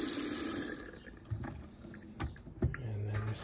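Water runs from a camper van's pull-out sink faucet, a soft trickle with a few splashes and clunks against a background hiss, faint and close.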